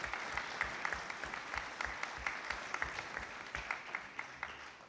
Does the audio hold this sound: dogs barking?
no